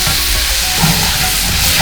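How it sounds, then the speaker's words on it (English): Fajita vegetables sizzling loudly in a hot pan being shaken, a close, steady hiss with rustling scrapes and no talking. "I like to push the veggies out like that, and then I shake the pan to get everything centered again"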